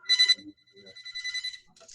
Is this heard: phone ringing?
yes